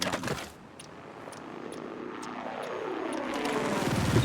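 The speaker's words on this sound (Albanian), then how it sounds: "Helikopter." A helicopter in a video game flies past with a throbbing rotor and engine whine, pitch sweeping as it approaches, growing steadily louder and closer with no voices.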